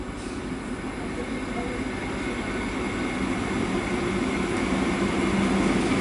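A Melbourne suburban electric train rumbles steadily closer as it arrives at Glenroy Station, its low drone and rail noise slowly growing louder with no voices.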